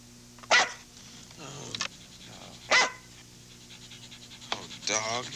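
A dog in a 1981 TV commercial barks sharply three times, with panting and yips between the barks and a voice talking around them.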